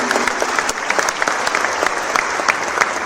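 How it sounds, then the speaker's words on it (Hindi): A large crowd at a political rally in Jaipur applauds and cheers, producing dense, continuous clapping that stays loud and even for the whole stretch, with no voice rising above it. "ताली बजा रहे हो, हर्षनाद कर रहे हो"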